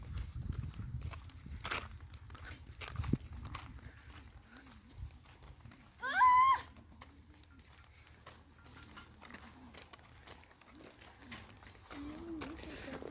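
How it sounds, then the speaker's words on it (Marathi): Two people walk briskly outdoors, their footsteps tapping in a quick, faint rhythm while voices talk over them. "या दोघी चालले आता जोरात"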